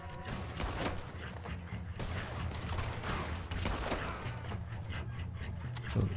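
Gunfire from the open-world western video game Red Dead Redemption 2 on Guarma, a continuous rattle of shots and thuds in dense fusillade lasting throughout, loud and steady with no clear pauses.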